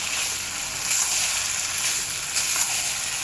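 Marinated prawns hiss in hot oil as they are stirred in a pan, a close, even sizzle with slight surges and no talk over it.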